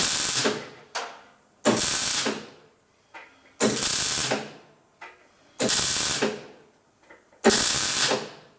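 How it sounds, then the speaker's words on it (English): Welding on a Classic Mini's boot skin repair, short bursts of harsh crackling buzz repeated about five times with brief quiet gaps and small clicks between, close up, no talking. "Trying to work in the heat to get a good weld, but also not build it up too far."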